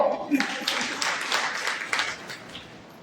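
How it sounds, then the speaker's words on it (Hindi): A crowd at a yoga gathering claps in scattered bursts, uneven and fairly close, with a voice briefly heard at the start. "ताली बजाओ"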